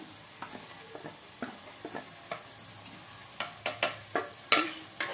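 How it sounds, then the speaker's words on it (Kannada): Chana masala spices, coriander powder and chilli powder, fry in a pan, with a soft background sizzle broken by a series of sharp scraping and clinking stirs that grow louder toward the end. "ಹಾಕ್ಕೊಂಡು ಫ್ರೈ ಮಾಡ್ಕೊಳ್ಳೋಣ"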